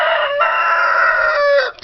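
A rooster crows once, loud and close, in a single long sustained call that drops off sharply at the end, with no other sound.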